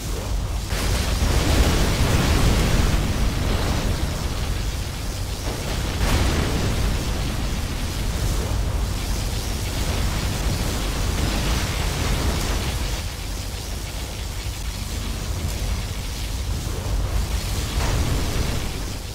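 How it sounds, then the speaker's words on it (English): Particle cannon blast and rolling explosions in the Command & Conquer Generals Zero Hour video game, a sustained roaring wash of booming, noisy detonations that swells and recedes repeatedly, loud and without speech. "Particle cannon activated."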